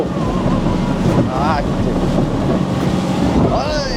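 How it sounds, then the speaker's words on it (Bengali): A boat pounds through rough sea waves off Malaysia in strong wind. Loud, continuous wind buffeting and water rush fill the scene, with brief voice sounds breaking through. "আমাদের বোটটা রীতিমতো লাফিয়ে লাফিয়ে চলছে ঢেউয়ের সাথে"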